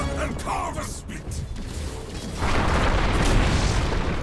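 A tower is destroyed in the video game Dota 2: a loud, sustained crashing rumble sets in partway through, layered over game music and effects with a voice talking early on.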